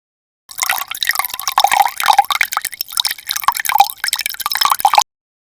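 Liquid pours into a jug in one continuous, close, gurgling stream lasting about five seconds, with bubbly splashing and no talking.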